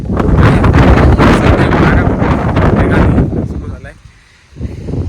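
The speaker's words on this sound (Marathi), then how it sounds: "एका जागेवरती एवढा वारा आहे" Strong wind roars and buffets against the microphone in heavy gusts on a foggy mountain summit at Kalsubai, briefly easing near the end before picking up again.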